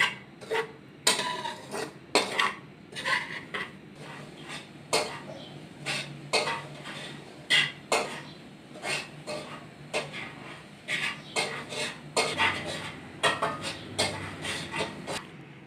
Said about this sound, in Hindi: सूजी को अच्छी तरह भून लेंगे 5 मिनट के लिए लो फ्लेम के ऊपर